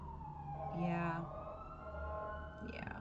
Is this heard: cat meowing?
no